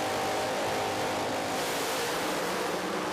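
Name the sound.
drag racing car engines revving at around 5,000 RPM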